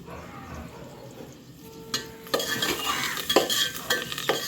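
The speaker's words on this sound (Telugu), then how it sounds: "కరివేపాకు వేస్తున్నాం వదిన కరివేపాకు కూడా వేస్తాను" Curry leaves dropped into hot oil set off a crackling, spitting sizzle that swells midway, with a spoon stirring and scraping against the pan.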